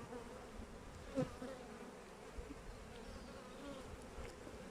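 Honeybees drone steadily in an opened, overcrowded beehive, a dense continuous buzz close by with one brief louder swell as a bee passes near.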